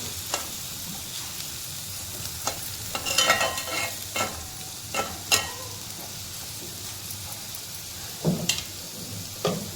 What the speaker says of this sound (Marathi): थोडंसं आपण परतून घ्यायचं.